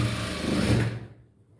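An electric sewing machine stitches fabric for a child's frock, a steady close whirring run that stops abruptly about a second in, leaving near silence.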